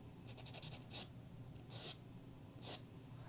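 Pencil scratching back and forth over a soft pastel drawing on paper, with quick rhythmic strokes followed by three louder, longer scrapes, close and quiet with no voices.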